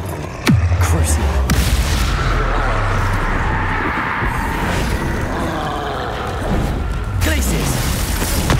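Crucio curse cast in a video game, a dense sustained rumble of spell energy with booming impacts and crashing bursts, loud throughout, with game voices over the top.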